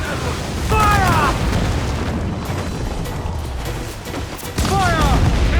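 Naval cannons fire from a sailing ship in the video game Assassin's Creed IV Black Flag, heavy booms and bursts mixed with shouted crew commands, loud and close with a sharp new blast near the end.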